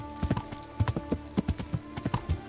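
Horse hooves clip-clopping in a steady trotting rhythm in the video game Kingdom Come: Deliverance, crisp repeated clops at moderate volume with no talking.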